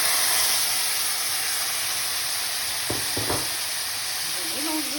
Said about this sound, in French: Là, je vais rajouter la viande dessus. Je vais mélanger un peu.